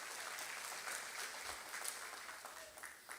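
Church congregation applauding in a dense, even wash of clapping that holds steady throughout, moderately distant with a faint voice underneath.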